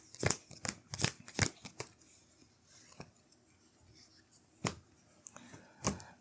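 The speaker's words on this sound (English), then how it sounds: "we're going to shuffle all of this back up into my deck" Playing cards being shuffled back into a deck during a tabletop card game, heard as a series of quiet, sharp riffling bursts with short pauses between them.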